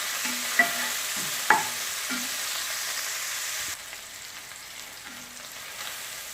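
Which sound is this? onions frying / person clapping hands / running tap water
onions frying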